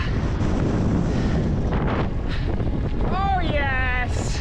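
Storm-force wind of around 70 knots during Storm Eunice on open sea water, roaring and buffeting the microphone continuously and loudly throughout, with a brief shout near the end.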